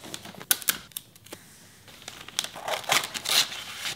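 Wrapping paper handled while wrapping a Christmas gift: close, crisp crinkles and rustles in quick irregular bursts, growing busier toward the end, with no voices.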